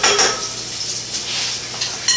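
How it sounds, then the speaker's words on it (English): Garlic frying in oil in a home kitchen pan, a steady soft sizzle with light popping and clinks of utensils against the pan, close and alone without talk. "your garlic and your oil should be frying a bit"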